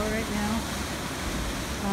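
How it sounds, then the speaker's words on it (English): Steady broadband rush of a waterfall at the head of a gulf, a continuous even roar filling the whole stretch with no breaks. "I'm looking at a really beautiful waterfall right now"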